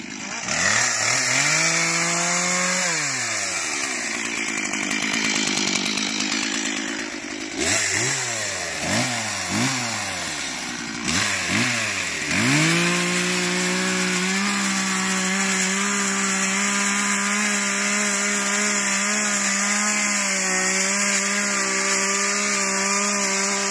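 A chainsaw cuts through giant miscanthus grass beside a fence. The engine drones loud and close throughout, its pitch dipping and climbing repeatedly as the blade bites into the stems.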